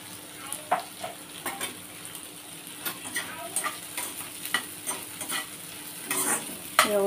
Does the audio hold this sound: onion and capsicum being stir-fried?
yes